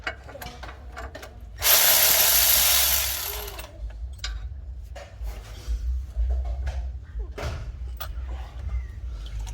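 Bolts being removed from the 6L80-family transmission valve body on a Cadillac Escalade, a burst of a power tool whirring for about two seconds, followed by scattered clicks and metallic ratcheting taps.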